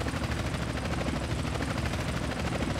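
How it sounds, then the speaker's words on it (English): Helicopter pursuit in GTA San Andreas, heard as a constant loud beating rotor roar with a dense rhythmic chop, steady throughout without speech. "Got a chopper on our tail."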